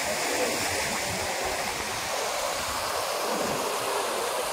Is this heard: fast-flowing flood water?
yes